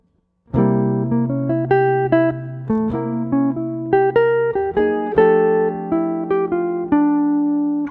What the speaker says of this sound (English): you can play bebop lines that sound kind of like this.